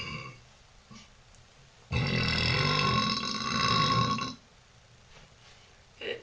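A woman lets out a single long, low, rumbling burp with her mouth closed, loud and close, standing alone between stretches of near silence.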